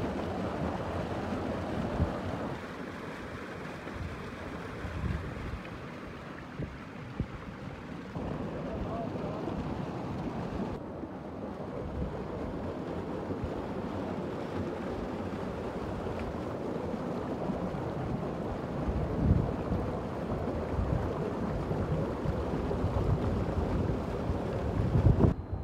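Motor-driven water pump at a farmhouse in Mankera, Bhakkar, with water gushing out in a loud, continuous rushing roar mixed with wind buffeting, while people talk over it.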